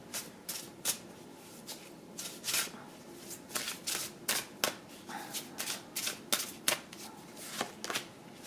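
Tarot cards being shuffled and drawn, with repeated crisp riffles and slaps of the deck in an uneven rhythm, close and clear with no talking.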